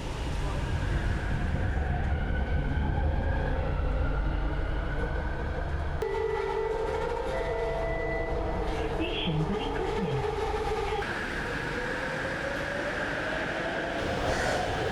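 Steady rumble and rattle of a moving train carriage in Malaysia, continuous and fairly loud throughout, with a faint whine and muffled background voices.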